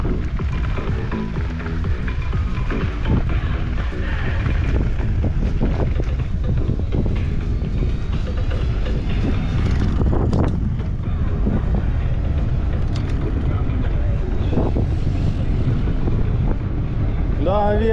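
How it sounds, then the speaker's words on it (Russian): Steady wind buffeting the microphone while riding a boat along the Crimean coast near Meganom and Sudak, a continuous low roar with gusts and no talking. "Да, ветер."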